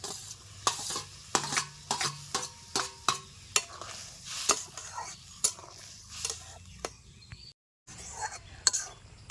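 Fried moka fish and water going into a simmering masala, with a steady low sizzle broken by repeated sharp stirring clinks of a spoon against the pan and one brief silent gap near the end.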